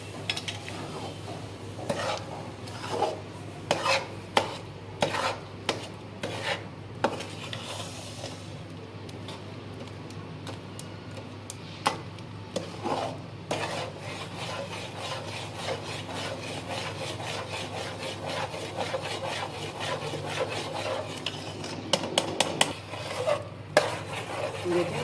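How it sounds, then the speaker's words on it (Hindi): Chana dal halwa with milk and sugar stirred in a pan, heard as close, intermittent scraping and rubbing strokes with a faint sizzle and no talking. "मैंने इसमें दूध और चीनी शामिल कर दी है। अब इसको मैं चला रही हूँ।"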